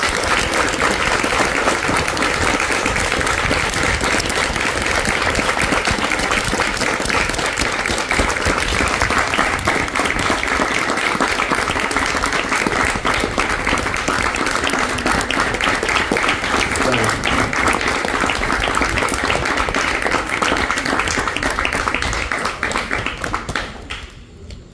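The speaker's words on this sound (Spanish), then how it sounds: "por favor, todos, un aplauso fuerte a esta chica" Loud, sustained applause from the audience at a clown show, a thick steady wash of clapping for over twenty seconds that fades out at the end.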